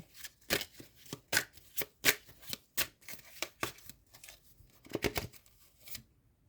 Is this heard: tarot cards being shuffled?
yes